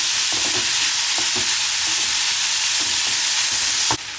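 Onions fry in a pan for malai kofta, a steady loud sizzle throughout with occasional soft stirring scrapes and a sharper clink near the end.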